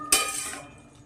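A lid is set onto a pot of braising mutton, a single sharp metallic clink that rings briefly and then fades into a quiet kitchen.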